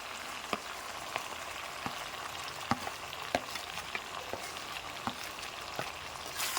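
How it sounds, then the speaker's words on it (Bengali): Chicken curry with potatoes and ground garam masala sautés in a pan, a soft continuous sizzle punctuated by regular spatula scrapes and taps as it is stirred. No one speaks. "আমি আলুগুলো দিয়ে আর একটু কষিয়ে নেব আর এই দিয়ে মধ্যে কিন্তু এবার আলু দিয়ে দিয়েছি"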